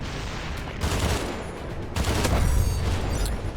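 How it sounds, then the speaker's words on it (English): Grenade blast and bursts of gunfire in the video game CrossfireX, two heavy booming surges over a dense rattle of shots, fairly loud with no talking. "Grenade going in."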